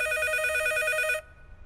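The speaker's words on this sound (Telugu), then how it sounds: "ఈసారి ఫోన్ మోగుతుంది మన రూమ్ లోనే." A telephone rings inside a room, a loud, close electronic trill that repeats steadily for just over a second, then cuts off abruptly into quiet room tone.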